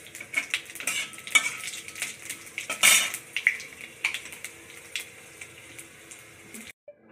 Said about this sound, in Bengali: এই যে এবার 5 ফোড়ন দিচ্ছে, দেখেন এই দেখেন 5 ফোড়ন দিচ্ছে